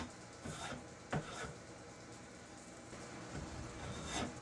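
A spokeshave shaves a wooden axe handle in quiet, close scraping strokes, several rasping passes with a sharper knock near the middle, no talk.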